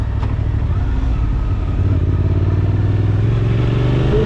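A Suzuki V-Strom 800SE, an A2-compliant 800 cc twin, is ridden on the road. The engine drones loud and steady, close up, with wind rush, and gets slightly stronger partway through.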